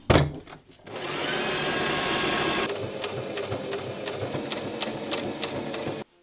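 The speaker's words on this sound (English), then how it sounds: "Now let's sew this together." A sewing machine stitches together a homemade DIY apron, running in one steady continuous burst of mechanical whirring close up, with faint clicks from the machine near the end and no talking.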